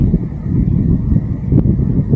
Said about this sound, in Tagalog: Malakas na hangin sa harap.